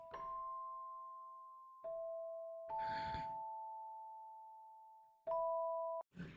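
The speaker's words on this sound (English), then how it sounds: "that's why I went with the Celesta" Celesta notes ring out as sustained bell-like tones, a few long clear pitches held one after another with soft breathy noises between them, quiet and close.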